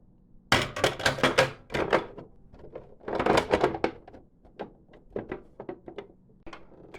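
Plastic top shell of a Nintendo NES console being set back in place and pressed down, giving a run of close, loud clacks, rattles and thunks that come in bursts, with smaller knocks and taps trailing off afterward.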